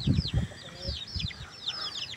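A fighting rooster gives a quick run of low, close clucks, with thin bird chirps sounding in the background.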